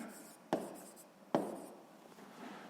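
A pen writing on paper during a sixth-grade maths exercise: two short scratchy strokes, close and quiet, with no talking.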